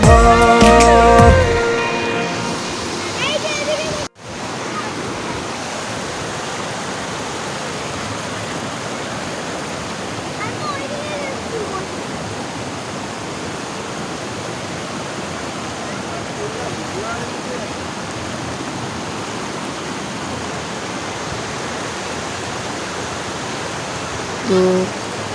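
Water rushes and flows steadily at the water's edge, a broad, dense hiss that fills the scene after a short burst of music and voice at the start.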